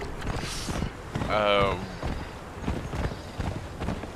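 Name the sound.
horse hooves clip-clopping in video game Conan Exiles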